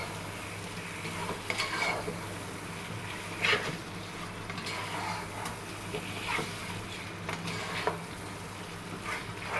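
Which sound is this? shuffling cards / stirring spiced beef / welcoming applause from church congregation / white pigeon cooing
stirring spiced beef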